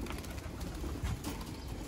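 Pigeons coo softly and continuously at close range, a low murmuring drone with no voices over it.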